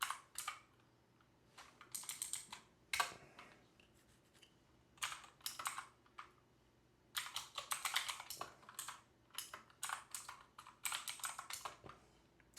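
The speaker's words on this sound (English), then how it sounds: "So I'm going to type it out, and then I'm going to explain it a little bit better." A computer keyboard being typed on while an SQL query is written, quick bursts of clicky keystrokes separated by short pauses, close and fairly quiet.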